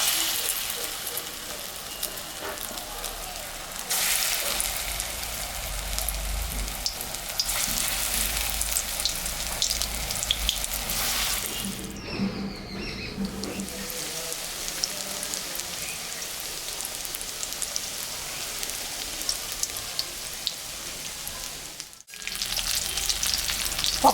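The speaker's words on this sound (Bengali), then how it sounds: "আমি এখন পকোড়া ভাজবো।" Chicken pakoras crackle in hot mustard oil in a kadai, a continuous bubbling sizzle like heavy rain, close by, swelling and thinning as pieces are turned, with a couple of brief dips and no talk.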